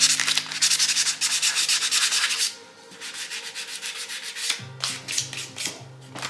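Rapid back-and-forth scraping of sandpaper by hand on a KitchenAid stand mixer's hard surface, loud and close, pausing briefly before resuming more softly.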